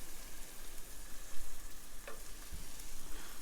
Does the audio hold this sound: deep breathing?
no